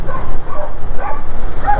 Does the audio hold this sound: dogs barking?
yes